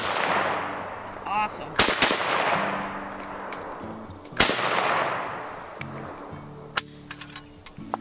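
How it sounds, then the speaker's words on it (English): Two loud gunshots from an SKS rifle ring out outdoors a few seconds apart, each with a long echoing tail, while people talk and react between the shots. "First ever shot with the new SKS."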